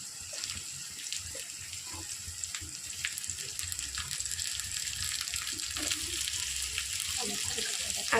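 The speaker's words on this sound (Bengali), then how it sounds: "আমি এবার দিয়ে দিচ্ছি কড়াতে আলুগুলো।" Raw potato pieces go into hot oil in a kadai, setting off a steady crackling sizzle with faint watery bubbling that continues at a close, even level.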